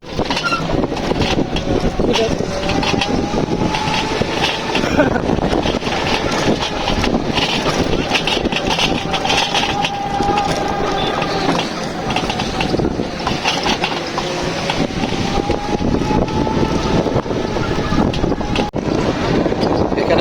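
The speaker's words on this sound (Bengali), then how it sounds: "এখানে হচ্ছে সমুদ্র আমরা সমুদ্রের কাছে আছি" Wind and sea waves at Kuakata beach make a steady broadband roar that buffets the microphone, with people talking nearby throughout.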